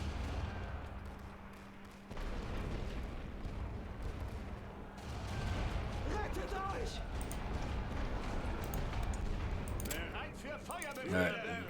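Artillery barrages in the WWI strategy game The Great War: Western Front, a rumble of distant booms and thuds rolling on under a steady bed of battlefield noise, with a few sharper reports near the end.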